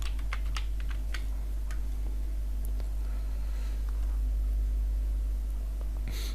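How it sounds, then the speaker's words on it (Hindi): Typing on a computer keyboard while entering a caption for a web page post, with a steady run of close, light key clicks over a constant low hum. "हम लिख लेते हैं"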